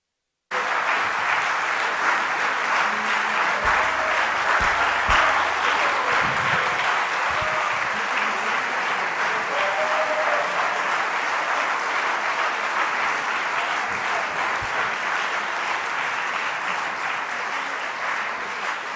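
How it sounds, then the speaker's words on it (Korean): A church audience applauds youth singers as they return to their seats: dense, loud clapping that starts abruptly and holds steady for the whole stretch. "우리 이 아이들이 자리에 앉을 때까지 힘찬 박수로 격려해 주십시오"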